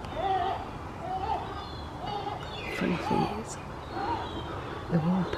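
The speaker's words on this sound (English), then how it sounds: "All the birds are up already." Several birds call in the early morning near a swimming pool, repeated short hooting and cooing notes at moderate distance, with a person talking at times alongside them.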